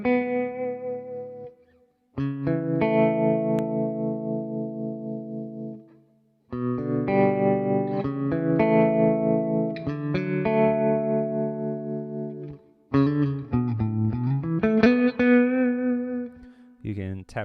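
An electric guitar runs through the Neural DSP Morgan Princeton amp plugin with a trim effect, playing sustained clean chords in three bursts with short gaps, the last phrase bending and wavering, with no talk.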